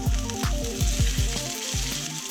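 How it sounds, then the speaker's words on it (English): Chicken searing in a hot oiled pan, giving a loud, close, continuous sizzle with a steady crackle throughout. "I'm going to get it into a hot, oiled pan and letting it sear on both sides for about 3 to 4 minutes each"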